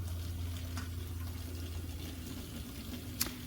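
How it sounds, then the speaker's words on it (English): Cool tap water runs steadily over cooked rice noodles as they are rinsed in a kitchen, making a soft, continuous hiss with a faint low hum beneath and no talking. "we will just run them under some cool water"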